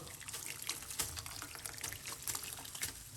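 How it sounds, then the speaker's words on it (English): Hot water poured into a pot over pineapple peel for tea, a steady splashing pour running the whole time at moderate level, close by, with no talk. "Then I'm going to pour some more hot water."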